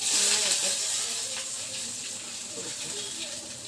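Shallots sizzling in hot oil with mustard seeds and fenugreek, a steady close hiss with faint crackling pops throughout.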